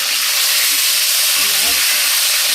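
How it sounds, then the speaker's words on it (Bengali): Potato, green banana and tomato with green chilies frying together in a pan: a loud, continuous close hiss of steam and sizzling oil, with faint movement underneath. "এই দেখো আলু কলা টমেটো একসঙ্গে আমি দিয়ে দেবো।"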